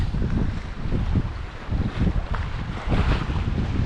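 A sailboat runs in a 10–12 knot breeze out of Beaufort toward Charleston, with heavy low wind buffeting on the microphone and rushing water along the hull, loud and continuous with no voices.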